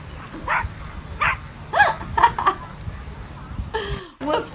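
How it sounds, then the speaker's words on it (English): A small dog gives several short, sharp barks and yips in quick bursts, close to the microphone, with a voice in the background. "Little vegan dog tells all the meathead dogs off."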